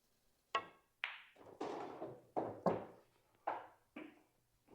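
Sharp knocks ring out in a nine-ball game on a 7-foot pool table, about eight separate hits spaced irregularly, each a crisp strike with a short fading tail, fairly close, with no talking.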